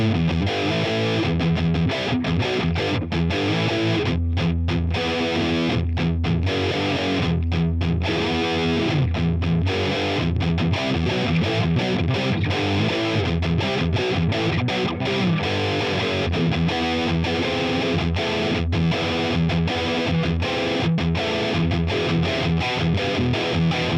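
High-gain electric guitar played through a Line 6 Helix German Ubersonic amp model with reverb off gives loud, dense distorted chords and riffs, continuous for the whole stretch with short choppy breaks between phrases.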